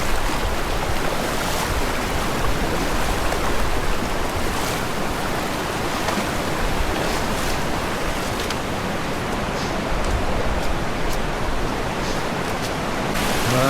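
Cold mountain river current rushing through a ford in a gorge in Uzbekistan, a loud, steady broadband roar of flowing water heard close and continuous, with no speech.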